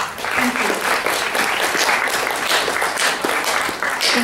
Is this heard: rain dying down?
no